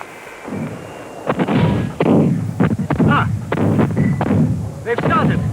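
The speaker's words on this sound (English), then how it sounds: "The rebel cannon have opened fire." Cannon artillery fires across a battlefield at Culloden, a rapid series of heavy booming shots in close succession, loud and near.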